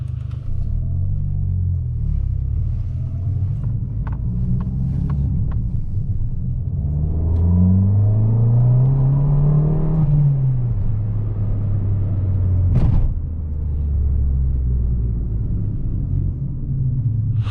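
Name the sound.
Abarth 500 1.4 four-cylinder engine driving on the Autobahn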